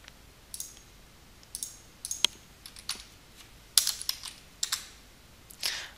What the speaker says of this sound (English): And here we are typing the text called precision series.